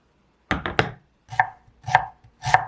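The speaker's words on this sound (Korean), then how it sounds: "적양파는 잘게 썰어서 밭대에 넣을게요." A knife chops red onion finely on a cutting board in six crisp strikes, three quick ones in a row and then three more spaced out, close and clear with no talk.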